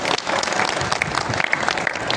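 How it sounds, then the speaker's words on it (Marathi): Hall audience applauding the organizers of a devotional bhajan evening, a dense steady patter of clapping with a faint crowd murmur. "त्या सर्वांसाठी जोरदार टाळ्या वाजवा"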